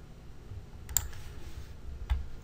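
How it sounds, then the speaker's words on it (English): Computer mouse clicks while navigating a website: two short, sharp, close clicks about a second apart over faint background hiss. "click on the downloads button"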